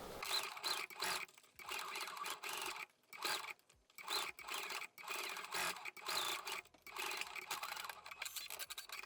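A sewing machine stitches a wedding dress seam in short, uneven bursts with brief pauses between them, its whirring fairly faint and close.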